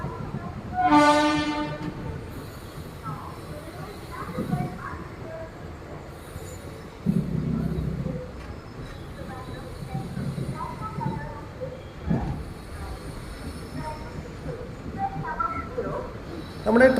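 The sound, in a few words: train arriving at Thiruvananthapuram railway station platform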